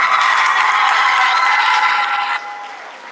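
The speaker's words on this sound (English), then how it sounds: "Let's give a clap of hands." An audience of college students claps together at a science day celebration. The dense applause holds steady, then thins and softens toward the end, with no voices over it.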